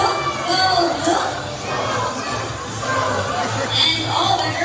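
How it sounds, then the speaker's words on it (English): A crowd of boys in a bird show audience chants a cheer together, a dense, loud, continuous wall of young voices rising and falling in waves throughout. "Come on boys, let me hear you cheer. Go blue, go blue."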